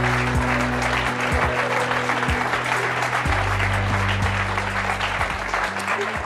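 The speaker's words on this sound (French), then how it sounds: "Je vous demande d'applaudir chaleureusement la maman Karine, Martine." A TV talk-show studio audience applauds steadily to welcome a guest, a dense wash of clapping over low musical tones.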